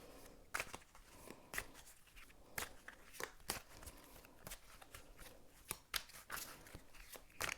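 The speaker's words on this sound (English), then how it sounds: "I'm going to shuffle a little bit more" Tarot cards are shuffled by hand, a soft, quiet series of irregular riffling snaps and slides with no voice.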